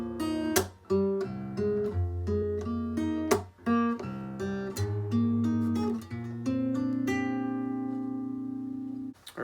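A song is picked very slowly on guitar. Separate plucked notes and chord hits ring out with clear decays and gaps between phrases, close and fairly quiet, with the last notes left to sustain.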